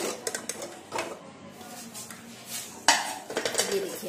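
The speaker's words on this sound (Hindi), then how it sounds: "अब ये हमारे कुकर में दो सीटी हो गई है, अब हम उसको कुकर को खोल के देखेंगे।" A home pressure cooker of sambar being opened after two whistles, with metallic clinks of lid and utensils, a sharp burst around the middle, and scattered clattering throughout.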